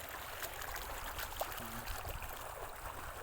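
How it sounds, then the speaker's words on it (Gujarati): Steady, gentle rush of irrigation water flowing through a channel in a cotton field, continuous and fairly faint outdoors. "હજી પાણી જાય છે"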